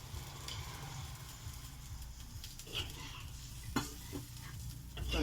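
Fish curry in a pan sizzling and bubbling after water has been added, a soft continuous crackle with a few stirring scrapes and clinks, close but quiet.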